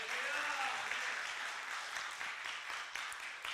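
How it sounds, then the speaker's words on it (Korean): Applause from a congregation at a Korean church praise and testimony gathering with a saxophone performance, a soft, steady patter of many hands clapping throughout, fairly distant and even, with a faint tonal trace early on. "하나님께 감사와 영광의 박수 올려주세요"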